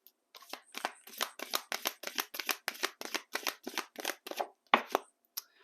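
A deck of Stay Inspired Oracle cards by Sister Moon Tarot is shuffled by hand in quick, rhythmic riffling bursts, about a dozen close, crisp flutters in a row, then a few final taps.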